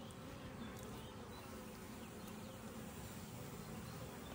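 Honeybees buzz continuously around an opened beehive during a hive inspection, a dense steady drone close to the microphone with no talking.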